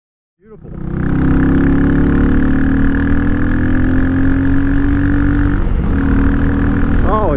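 A Royal Enfield Meteor motorcycle with an aftermarket exhaust pipe starts up and settles into a loud, deep, steady exhaust rumble, with a brief dip in revs before it picks back up.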